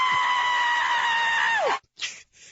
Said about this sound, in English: if Oprah screaming for Obama doesn't get you in rage